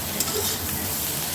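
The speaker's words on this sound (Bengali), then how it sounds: "সবজিগুলোকে হালকা হাতে ভেজে নিচ্ছে।" Vegetables salted in a home kitchen fry gently in a pan for a Bengali shukto, a close steady sizzle under soft stirring sounds.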